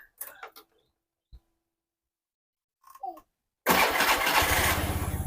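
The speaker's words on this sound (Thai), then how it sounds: "เรามาลองเทสกันดูเลยนะผม ว่าจะสตาร์ทมือได้ไหม" Faint brief voices and a few soft knocks precede a Honda Scoopy i scooter, freshly fitted with new parts, catching on a manual start and settling into a loud, steady, close idle.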